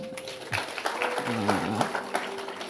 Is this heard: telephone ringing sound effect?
no